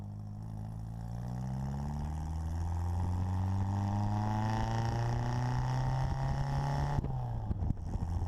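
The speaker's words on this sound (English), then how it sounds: "now I'm going to get hard on the brakes, do a bunch of downshifts" A 1958 Bugeye Sprite braking hard and downshifting, engine drone rising and falling in pitch through the gears with wind noise, ending in a sharp blip and drop in revs.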